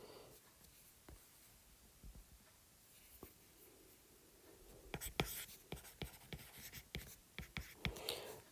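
Chalk or marker writing on a board during an enzyme lecture, faint scratchy strokes and taps in irregular bursts, growing busier toward the end, with quiet speech at the start.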